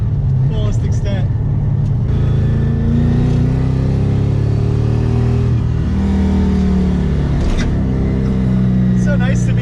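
An LS1 V8-swapped Mazda RX-7 pulls hard through second gear, its engine note rising and falling loudly and continuously over several seconds while people talk in the cabin.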